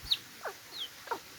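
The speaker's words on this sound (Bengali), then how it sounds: "খুব সুন্দর অনেকগুলো মুরগির বাচ্চা দেখুন।" Chicks pecking at their feed give a few sparse, short high peeps and soft clucks, spaced about half a second apart, close by in a quiet setting.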